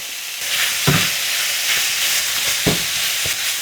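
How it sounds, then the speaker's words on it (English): Minced meat sizzles steadily in a pan with ginger and garlic added, a dense frying hiss broken by a few sharp scraping stirs of a spatula close by, with no talking. "I'm going to add the ginger and garlic into this now and just let that cook with the meat"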